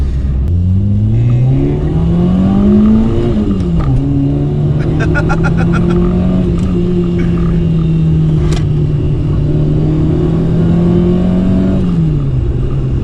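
Peugeot 106 Rallye 1300 with an aftermarket ECU raising the rev limit to 8100 rpm, revving up steadily and holding a loud, droning engine note at high revs, with a brief dip near the end and faint voices in the background.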